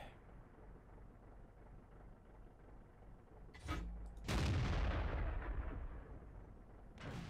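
Tank cannon fire in the World of Tanks video game: a sharp shot followed by a heavy booming blast with a rumbling tail, then the start of another report, all loud over a quiet low battle ambience.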